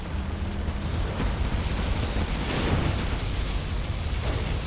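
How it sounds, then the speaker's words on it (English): Particle cannon blast in Command & Conquer Generals Zero Hour, a loud sustained roaring, crackling rumble that fills the whole stretch with dense noise and no clear pauses. "Particle cannon ready. Particle cannon activated."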